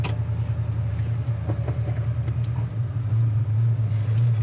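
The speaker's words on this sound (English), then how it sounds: "Seems like our idle's good." A 1968 Ford Mustang coupe idles steadily nearby, a smooth, even low rumble that holds without revving throughout.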